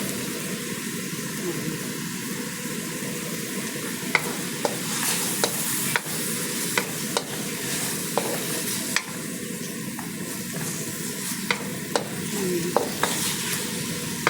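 Pork and tomatoes fry in a pan with rendered fat, giving a steady, close sizzle broken by repeated scraping and clacking strokes of a stirring utensil, with a voice faintly underneath.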